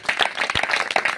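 A church congregation bursts into steady, dense applause, many hands clapping together at close range and filling the whole moment without any voices.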